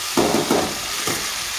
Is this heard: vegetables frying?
yes